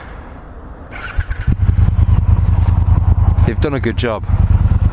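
2018 Triumph Bobber Black motorcycle engine running, a close, loud, pulsing idle that kicks in after a quiet start and carries on under someone talking.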